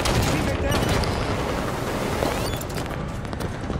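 Dense, continuous gunfire in a Halo 5 Warzone battle, loud and sustained with overlapping shots and blasts throughout, easing slightly toward the end.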